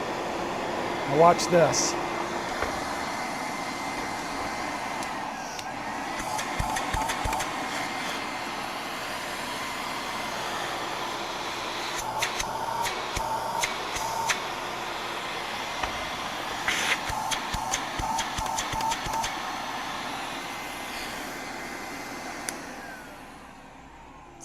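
A 1970s Brother vacuum cleaner runs with a steady, droning motor whir that holds for a long stretch, broken by a few clicks and handling noises, while someone speaks briefly nearby.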